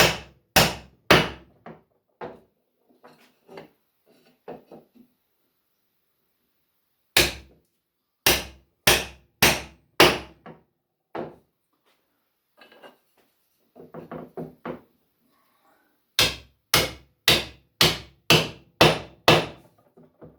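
Hammer blows drive angled wooden parts into a handmade chair in a woodworking shop. Sharp, loud strikes arrive in three quick bursts of four to six evenly spaced hits each, with softer taps and shuffling between the bursts and no voices.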